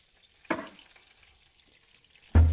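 Potato gnocchi sauté in a pan in two short bursts of sizzle, a brief hiss then a louder one near the end, with quiet in between and no talk.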